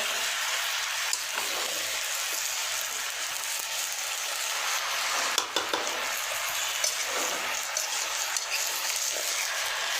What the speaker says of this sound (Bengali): কুমড়োটা ভালো করে কষাই নেব